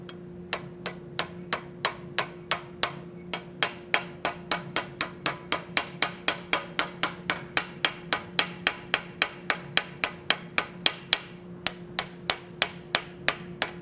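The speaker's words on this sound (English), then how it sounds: "Again, with this, I'm repoussing the background down." Steady, evenly spaced hammer blows strike metal held in a vise while an acanthus leaf is repousséd, dozens of sharp, close, ringing taps in a regular rhythm with no speech.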